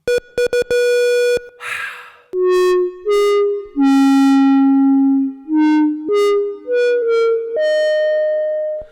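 An ARP 2600 analog synthesizer plays a slow series of sustained, gliding pitches with a wash of reverb, after a few sharp clicks and a burst of noise.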